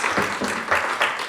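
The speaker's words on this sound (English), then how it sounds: "let's give a round of applause to Dr." Brief applause from an audience at a panel event on digital health, a few loose rhythmic claps rising and falling over a second or so.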